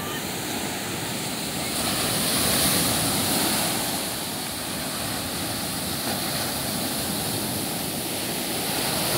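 Rough surf pounds the sandy beach at Maresias, Brazil, in late afternoon, a constant loud roaring wash with slight swells of intensity and wind noise on the microphone.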